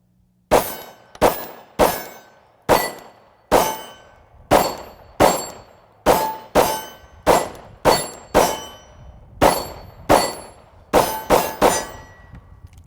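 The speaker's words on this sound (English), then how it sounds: "Let's just start shooting." Gunshots from a home defense gun loaded with hollow point rounds, about seventeen loud, sharp reports fired in a quick, uneven rhythm with short ringing decays and no talking.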